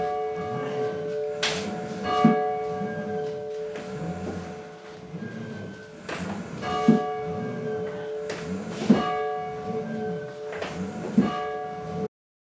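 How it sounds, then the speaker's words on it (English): The bell of Lac Qui Parle Church rings in a slow, regular series of about five strikes, each ringing out clearly and decaying into a sustained hum before the next. "would ring this bell at the start of each church service"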